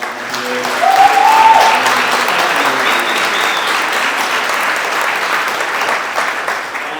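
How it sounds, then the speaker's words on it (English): A birthday celebration crowd applauds the volunteers with sustained clapping that swells quickly, holds steady for several seconds and eases slightly toward the end, with a faint voice briefly audible in the mix. "give a round of applause to all the volunteers"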